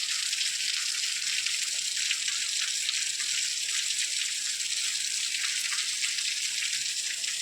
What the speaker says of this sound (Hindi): बहुत तेजी से पानी आ रहा है